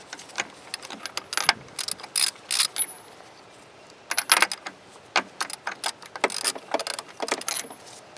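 Quick bursts of ratchet clicking loosen the spark plugs on a 50hp two-stroke Yamaha outboard motor, close and crisp, with short rapid runs of pawl ticks separated by brief pauses.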